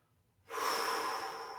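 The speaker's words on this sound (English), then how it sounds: "Get the breathing down into the lower abdomen." A single long, steady exhale during a relaxed shiatsu breathing exercise. It starts after a brief quiet moment and stays close and soft, with no talking.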